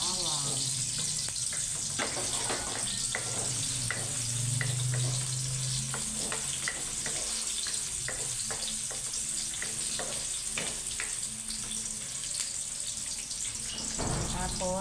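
Garlic frying in cooking oil gives a steady broadband sizzle throughout, with frequent light clinks of a utensil stirring against the pan.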